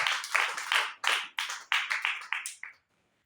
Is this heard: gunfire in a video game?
no